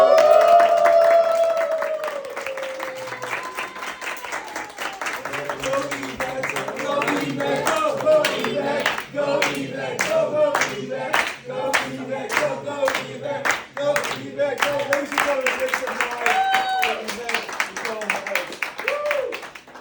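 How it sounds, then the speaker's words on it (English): A lecture audience gives a round of applause in a campus hall, dense sustained clapping with crowd noise that swells and continues for many seconds, with voices mixed in. "round of applause"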